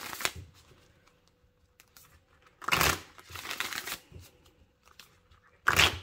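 Indigo oracle cards being shuffled and cut, quiet light handling ticks followed by two loud riffle-shuffle bursts, close and without talk.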